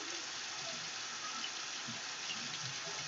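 Soapy hands rubbed together under a running tap, a steady faint hiss of flowing water with soft scattered splashes and squelches throughout.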